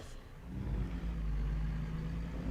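A truck engine in a driving video game, played on a Logitech G29 wheel with a shifter, pulls away in first gear over rough terrain with a low, steady rumble that builds slightly, heard quietly and with no voices.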